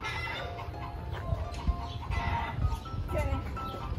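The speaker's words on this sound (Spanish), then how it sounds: "aquí los gallos suenan pila" Roosters crow and cluck close by in a rural yard, several overlapping calls rising and falling over steady background noise across the whole stretch.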